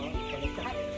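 Hybrid-breed chickens clucking in short bursts at a farm where birds are being weighed and cleaned, with a steady background hum under the brief calls.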